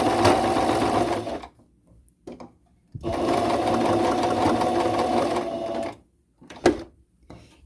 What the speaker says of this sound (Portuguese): e faz a costura.